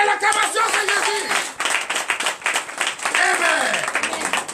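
Congregation clapping in acclaim for Jesus at a church testimony service in Comè, Benin, dense rapid hand claps filling the space while voices carry over them throughout.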